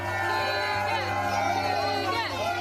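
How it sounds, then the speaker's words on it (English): A group of children cheering and whooping for a young cyclist, a continuous lively babble of high voices with rising shouts, fairly loud and close. "these kids cheering on Keegan Harrison"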